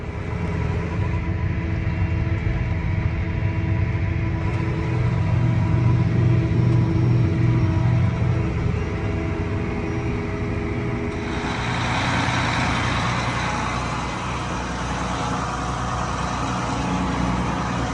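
A farm machine engine running steadily after being cranked, a continuous loud rumbling drone that holds for the whole stretch, shifting slightly in tone partway through, with no talk.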